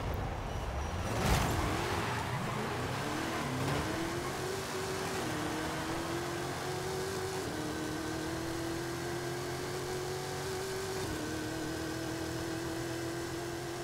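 A Barracuda muscle car in Forza Horizon 5 revs hard through a run of manual clutch shifts near 9,000 RPM. The engine note climbs steadily between gear changes and holds loud and close for the whole stretch, with no talk over it.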